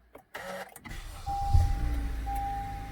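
2014 Honda Accord engine starting again, a brief starter whir followed by the engine catching and settling into a steady idle, close and moderately loud.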